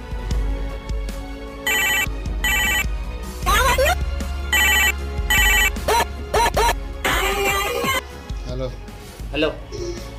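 Telephone ringing in repeated bursts of electronic ringtone, loud and close, broken by pauses with voices and shuffling in between.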